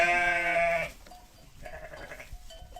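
One sheep lets out a loud, strongly voiced bleat up close, then quieter, shakier follow-up bleats come after a brief lull, with no human voices.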